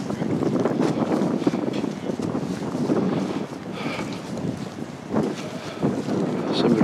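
Wind gusting across an outdoor winter camp with tents and bivvies, a steady rough roar buffeting the microphone, with some faint voices mixed in.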